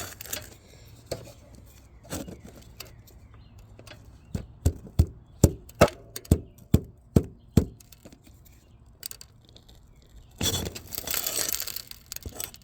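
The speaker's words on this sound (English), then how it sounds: "all the granules that are coming off of this roof right now" A run of sharp, crisp cracking snaps in a quick irregular series as granules break off a roof and scatter, with rustling noise before and after.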